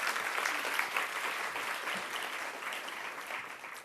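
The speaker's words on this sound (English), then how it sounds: "Let's have a round of applause to thank Microsoft for making this program possible." An audience at an evening tech executive roundtable gives steady applause, even clapping throughout at moderate loudness with no voices over it.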